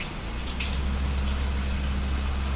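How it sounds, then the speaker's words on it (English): A kitchen sink tap fills a pot with water, a steady close gushing stream that starts with a slight surge and then runs on evenly. "put this in the sink and fill it up with water"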